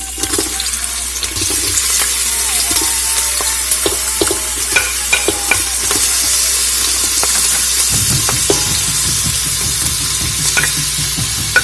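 A large onion sautés loudly in a generous amount of oil, with a continuous close sizzle and spatter under clattering stirring and scraping that grows busier partway through. No one speaks.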